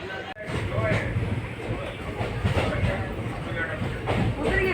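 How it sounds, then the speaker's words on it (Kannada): A train pulls into Gadag railway station in a steady, fairly close rumble with rail clatter, while people talk in the background. "ಅಲ್ಲಿ ಟ್ರೈನ್ ಬರ್ತಾ ಇದೆ."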